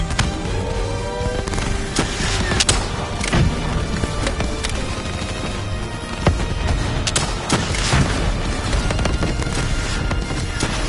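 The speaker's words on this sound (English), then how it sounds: "Javelin missiles incoming!" Repeated missile explosions and heavy blasts in Call of Duty: Black Ops III battle, loud dense booms and crackling impacts over a continuous roaring combat din, with sharp hits scattered throughout.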